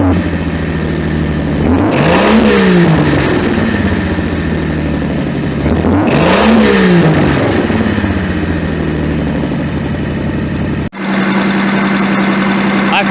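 A 1975 Plymouth Valiant Slant 6 engine running warm, a loud steady idle rising into two revs that swell and fall back, then an abrupt cut to a different steady hum.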